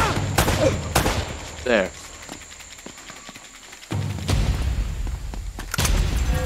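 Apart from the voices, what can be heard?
gunfire from enemies shooting in video game Uncharted: Drake's Fortune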